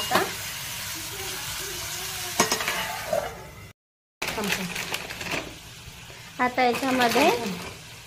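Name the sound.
paneer butter masala cooking in ghee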